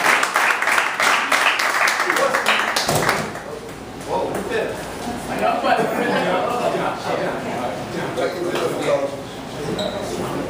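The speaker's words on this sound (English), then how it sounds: "Give yourselves a round of applause" Crowd applause at an outdoor house music history forum in Bronzeville, Chicago: a burst of clapping in the first few seconds, then it fades into crowd chatter and someone speaking over the room.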